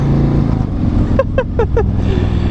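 Harley-Davidson CVO motorcycle engine while riding, a loud continuous low rumble with wind roar, broken by a quick burst of four rhythmic tonal blips near the end.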